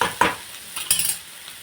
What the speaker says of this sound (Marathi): आपल्या भाज्या बी मस्त फ्राय झालेल्या आहे।